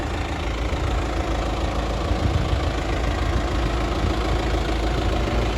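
A Tümosan 8195 tractor drags a harrow across soft field ground, its diesel engine giving a loud, steady, close low rumble with no break and no voices.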